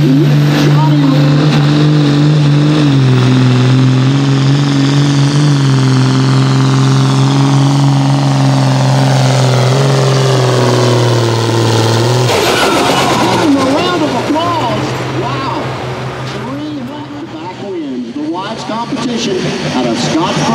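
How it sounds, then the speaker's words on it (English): An International hot farm pulling tractor roars at a Kentucky tractor pull, loud and sustained, its pitch sliding down before a rougher surging rev; an announcer talks over the engine. "This tractor right here can shake it up."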